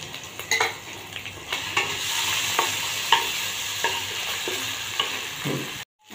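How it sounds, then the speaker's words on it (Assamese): Ginger and garlic, with onion and green chili, fry in hot oil and are stirred in a pan, a steady close sizzle broken by repeated light scrapes and clinks of the utensil against the metal. "আদা নহৰুখিনি ভুনিলোঁ।"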